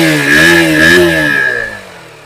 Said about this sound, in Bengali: ইঞ্জিনের আওয়াজটা শুনুন